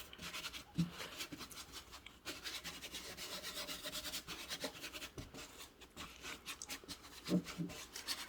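Glaze medium being worked into plaster cracks with a brush or rag, a close, dry rubbing and scratching that comes in irregular strokes of varying strength, with no talking.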